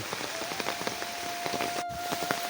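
Steady rain pours at night over waterlogged, flooded fields beside a rural road, a dense, even hiss with scattered close drop patters throughout.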